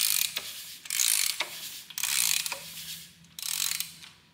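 A 441-cubic-inch LS3 short block turns over on an engine stand with rhythmic ratcheting clicks and soft mechanical whirs in repeated bursts, close and fairly quiet with no talk.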